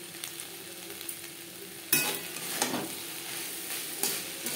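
Teasel gourd fried with grated coconut in a pan for a vegetarian dish, stirred with steady scraping and a soft background sizzle; a sharper clatter at about two seconds, then continuing stirring strokes, with no talk.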